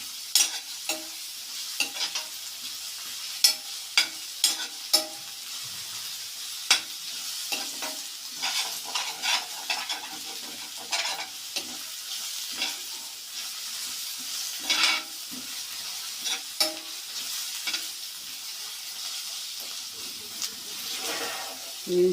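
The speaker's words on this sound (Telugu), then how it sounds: "పచ్చివాసన పోయేంత వరకు ఇట్లా వేయించుకోవాలండి" Grated bottle gourd frying in a pan, a continuous close sizzle and hiss broken by frequent stirring scrapes and clicks of a spatula throughout.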